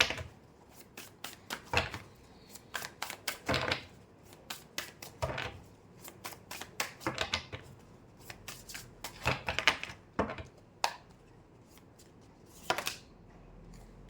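Tarot cards are shuffled by hand for 14 seconds, close and fairly soft, with irregular riffling and snapping bursts and brief pauses between passes, no voice over it.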